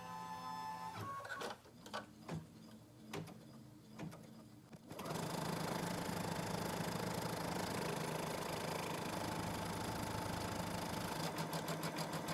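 An embroidery sewing machine stitches a HEPA-lined face mask in the hoop. It gives a few soft clicks and starts, then settles into a loud, continuous, fast mechanical whir.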